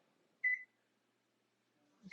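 An air fryer's timer gives two short, clear electronic beeps about one and a half seconds apart while it is being set for cooking stuffed salmon, in an otherwise quiet kitchen.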